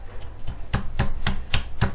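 Ginger root is struck hard to crush it and release its oils, giving about seven sharp, close thumps in a steady, quickening rhythm.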